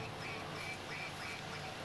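A duck quacks several times inside a greenhouse on a farm. The quacks are short and nasal, spaced across under two seconds against a steady background hiss.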